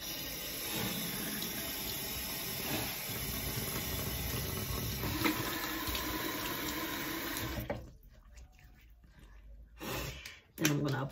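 Water from a bathroom sink tap runs and splashes steadily and fairly loudly as a face is dabbed wet before cleansing, then cuts off into a few softer drips and handling noises near the end.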